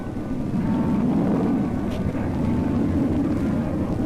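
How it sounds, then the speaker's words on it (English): A loud, steady low roar of a rocket-powered aircraft landing rumbles throughout, with wind buffeting and no voices. "This is not a jet aircraft landing. It is rocket power"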